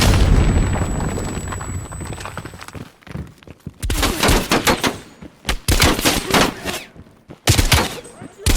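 Grenade blast and rattling gunfire in Call of Duty: Black Ops Cold War, a heavy boom followed by bursts of rapid shots, loud and close, with shouted voices mixed in.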